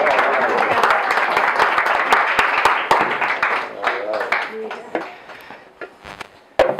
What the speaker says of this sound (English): Give him a good clap